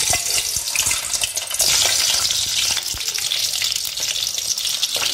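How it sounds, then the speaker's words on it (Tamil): Boiled eggs fry in hot oil in a pan for egg masala, with a dense, steady sizzle and crackle and occasional clicks of stirring close by. "இந்த முட்டையை வந்து வேக வச்சி இதல வந்து இப்போ நம்ம போட்டு பொரிக்க போறோம்"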